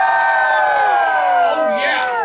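A live audience at a Knott's hillbilly band show roars and whoops loudly in a sustained burst of cheering, with many voices shouting together.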